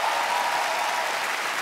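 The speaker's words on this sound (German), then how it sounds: "riesen Applaus bitte einmal für unsere Helping Hands" A studio audience at a German TV game show claps for the helpers in a short, dense, steady burst of applause.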